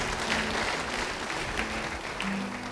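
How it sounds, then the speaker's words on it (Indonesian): A church congregation applauds together during a sermon, steady dense clapping filling the space for a few seconds with a faint voice or tone rising at the end. "Yang paham beri tepuk tangan bagi Tuhan."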